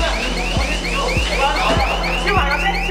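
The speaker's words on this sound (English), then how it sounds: "An alarm is triggered." A store alarm blares in a repeating electronic pattern, rising chirping tones pulsing roughly twice a second, loud and close with no talking.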